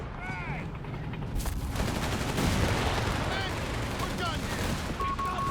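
Sustained battlefield gunfire from Company of Heroes 3 in a 2v2 match: dense rattling bursts and scattered shots over a continuous rumble, loud and unbroken throughout, with no one speaking.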